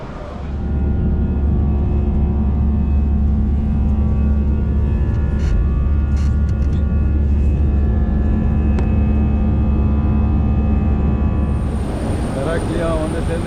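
A jet airliner parked at gate F30 in Terminal 2F at Paris Charles de Gaulle airport. It gives a loud, constant engine and ground-power hum with steady tonal whine, unbroken throughout and close by.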